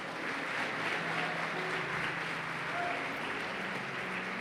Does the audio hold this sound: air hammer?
no